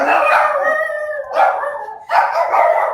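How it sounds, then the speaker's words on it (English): Dogs howl and bark close by in long, wavering cries, with two fresh bursts of howling joining in partway through. "There's my dogs."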